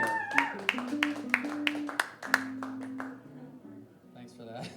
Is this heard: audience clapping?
yes